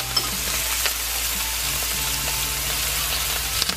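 Steak frying in butter with thyme and garlic, a loud, dense, steady sizzle close-up, with faint spits and a few light clicks over a low background hum.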